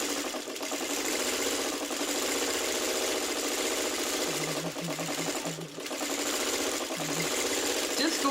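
A sewing machine stitches onto muslin fabric in a steady, fast, close mechanical whir with a rapid rhythmic needle beat, running continuously with brief slight dips.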